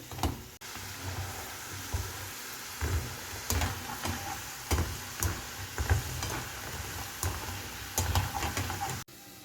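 Gaja pastries fry in hot oil with a steady, moderate sizzle, broken by repeated clicks and taps of a utensil against the pan, with no voices.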